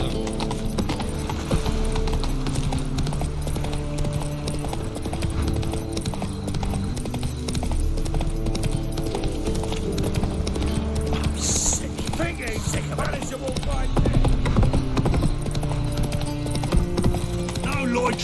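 Roach, the horse in The Witcher 3: Wild Hunt, gallops with a steady clip-clop of hooves, continuous and close, alongside game sounds and a brief snort or whinny.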